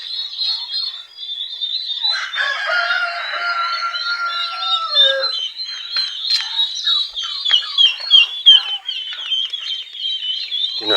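Brooding hens and other backyard poultry, chickens along with ducks, cluck and call continuously at close range, with a busy layered chorus of chirps and squawks and no talking.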